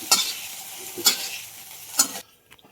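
Okra being roasted and stirred in hot oil left over from frying papad, a steady soft sizzle punctuated by three sharp stirring scrapes about a second apart, close and moderately loud.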